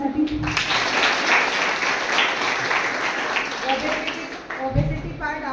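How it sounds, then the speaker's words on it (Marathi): Audience at a guest lecture on therapeutic diet breaks into sustained clapping, a dense burst of applause that fades near the end as a voice briefly speaks. "एकदा टाळ्या वाजवा माझ्यासाठी."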